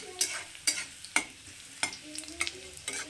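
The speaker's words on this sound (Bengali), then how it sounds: "রসুনগুলো একটু খুব সুন্দর করে ভেজে নেব।" Garlic and black cumin frying in oil in a pan, with a steady low sizzle broken by about six sharp scraping clicks as the spatula stirs. No one speaks.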